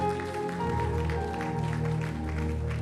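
A church congregation applauding the worship songs, dense continuous clapping with tonal musical residue underneath, steady and fairly loud throughout.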